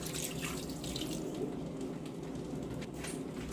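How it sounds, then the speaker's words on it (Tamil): A steady stream of water pours continuously into a pot of chicken being cooked, a constant rushing splash with no pauses or talking. "சிக்கன் வந்து வேகிற அளவுக்கு தண்ணி ஆட் பண்ணுறேன்"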